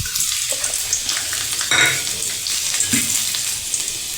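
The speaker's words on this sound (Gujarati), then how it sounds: "આપણી રાઈ તતડી ગઈ છે, તો આપણે તેમાં લસણની કળીઓ જે મેં અડધી કાપી લીધી છે વઘારમાં નાખીશું" Halved garlic cloves sizzle steadily in hot oil with popped mustard seeds during a tempering, a continuous close hiss with brief stirring scrapes and a soft clink partway through.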